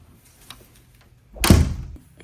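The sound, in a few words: door being shut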